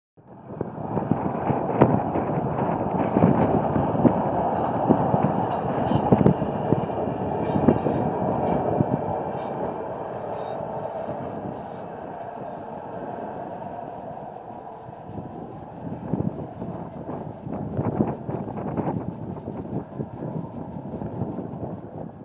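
An eastbound hi-rail vehicle rolls along a railroad track beside the old Lincoln Highway in Wyoming, a sustained rumble and clatter of wheels on rail with scattered sharp clicks and knocks, heard outdoors at moderate distance.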